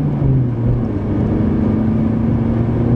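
A 1995 BMW 318ti four-cylinder engine drones steadily while driving, a continuous low hum with a slowly rising tone and road rumble underneath, no one speaking.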